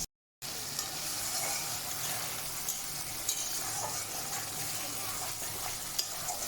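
Spiced masala paste for rohu fish curry sizzles and is stirred in a pan, a steady soft frying hiss with occasional scraping clicks, fairly quiet and continuous after a brief silent start.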